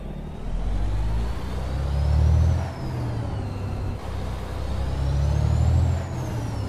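A loud Detroit diesel truck engine in American Truck Simulator drones steadily from the cab at night while hauling a tipper, its low rumble swelling and easing twice as the revs rise and fall, with no talk.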